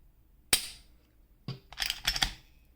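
The trigger of an S&W M&P 10mm pistol clicks through dry: one sharp snap, then a softer click, followed by a quick cluster of small mechanical clicks, close and quiet.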